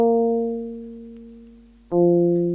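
A sequence from an Arturia MicroFreak synth, run through an Eventide H90 effects unit, plays two sustained harmonic tones. The first fades slowly, and then a second, lower note comes in sharply and rings out on its own.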